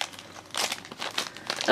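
Crinkling and tearing of a Pop Mart Disney Alice in Wonderland blind box package, several short close crackling bursts in quick succession.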